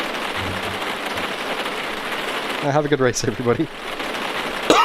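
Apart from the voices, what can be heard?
rain in Automobilista 2 racing video game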